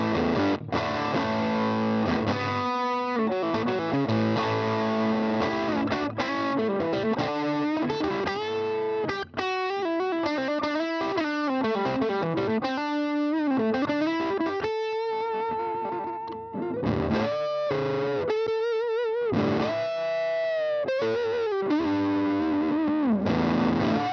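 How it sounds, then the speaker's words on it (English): A Vox AC4TV tube amp cranked all the way up on its quarter-watt setting gives a distorted electric guitar overdrive, with chords and single-note lines played continuously and no talking. "So you have the same kind of overdrive, only it's much quieter."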